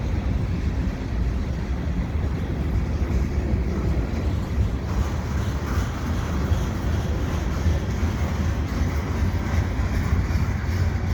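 A CN freight train with tank cars rolls steadily past in winter near Dorval, a loud, continuous close rumble and rail roar with no break for the whole stretch.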